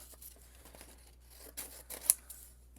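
Scissors snipping pieces of paper for a Cricut card, a few faint, close, crisp cuts and rustles in otherwise quiet surroundings.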